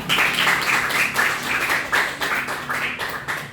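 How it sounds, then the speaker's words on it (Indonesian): A classroom of students claps for a classmate, a close, loud burst of rhythmic hand clapping in uneven pulses lasting a few seconds. "Oke, beri tepuk tangan untuk Kira"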